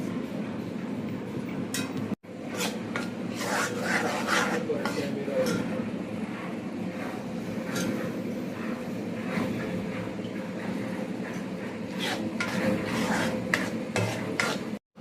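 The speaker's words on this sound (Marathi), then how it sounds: "पूर्ण मंद गॅसवरतीच हे आपल्याला तुपामध्ये छान असं खरपूस भाजून घ्यायचं आहे" Gram flour roasts in ghee over a low flame under continuous close stirring. Scraping spoon strokes against the pan sit over a soft, steady sizzle for the whole stretch, with one brief break early on.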